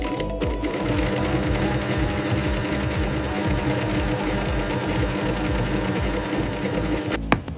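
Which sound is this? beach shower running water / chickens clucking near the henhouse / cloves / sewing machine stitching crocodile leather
sewing machine stitching crocodile leather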